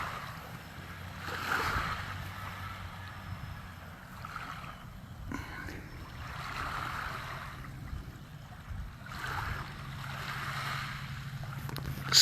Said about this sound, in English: some meditation from these waves, just sitting here by the beach